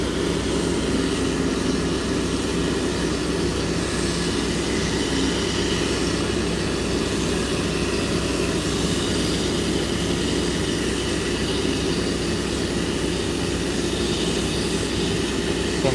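A rocket tank at the SpaceX Starbase tank farm in Boca Chica, Texas vents with a steady, broad rushing hiss that holds at an even level from start to finish, with no voices.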